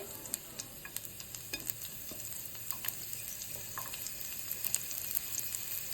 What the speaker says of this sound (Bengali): এবার তেলটা গরম হয়ে গেলে একটু রসুন কুচি মশলাতে